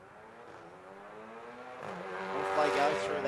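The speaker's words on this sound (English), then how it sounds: "Got that anti-lag on. Have a listen to that." A sports compact drag car at the Garrett Adelaide Jamboree idles with its anti-lag system on, crackling and popping, then revs harder and louder toward the end, with the engine's note rising.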